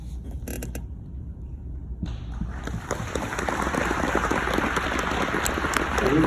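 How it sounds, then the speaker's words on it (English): A crowd at a scholar-athlete recognition event breaks into applause that swells into steady, dense clapping, growing louder toward the end. "We really applaud you."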